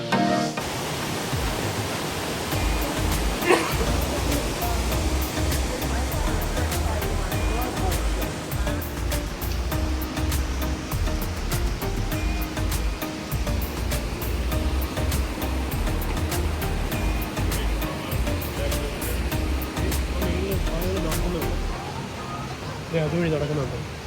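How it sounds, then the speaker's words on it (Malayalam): Rainbow Falls at Watkins Glen State Park pours in a steady, loud, broadband rush of falling water that stays close and constant throughout, with brief voices now and then. "ഇതാണ് റെയിൻബോ ഫാൾസ്."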